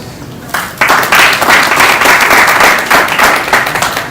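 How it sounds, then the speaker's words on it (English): Audience applause at a FinTech cybersecurity and fraud summit in Nigeria: loud, dense clapping from a crowd that starts abruptly and holds steady for several seconds. "we can still give him a round of applause"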